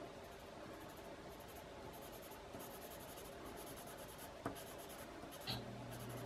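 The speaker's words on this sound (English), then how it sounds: "I'm not pushing very hard on this pencil." A colored pencil shades lightly across paper in soft, continuous scratchy strokes, close and quiet, with a couple of faint taps partway through.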